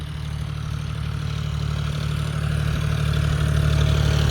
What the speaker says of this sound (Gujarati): હવે ટ્રેક્ટર આવે છે